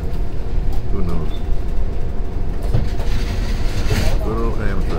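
An Amtrak passenger train rolls westbound with a steady rumble and rattle heard from inside the car, while a person talks over the continuous noise.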